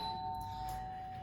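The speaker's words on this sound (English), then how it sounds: "I'm sorry for the doorbell." A doorbell rings indoors, a clear sustained electronic tone holding steady for about a second, fairly quiet against a faint room hum.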